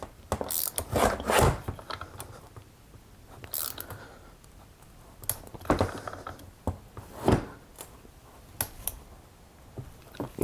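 Vintage Remington PL-4 chainsaw having its chain bar nuts hand-tightened, giving irregular close-up metallic clicks, scrapes and ratcheting rattles in scattered bursts with short pauses, no talking.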